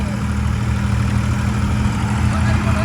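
A John Deere 5210 tractor engine idling nearby, a steady low diesel rumble that holds an even, unbroken drone throughout.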